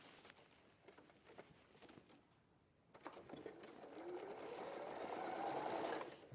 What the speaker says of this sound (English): So now I'm going to sew that.